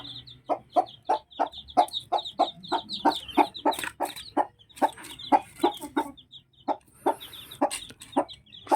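White leghorn cross native hen and her chicks, rapid repeated clucking and peeping in quick rhythmic bursts, close and fairly loud, with no talking.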